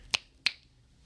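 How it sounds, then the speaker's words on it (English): Two crisp finger snaps, close and clear, about a third of a second apart, against near silence. "We got to get, some finger snaps and toe taps in here."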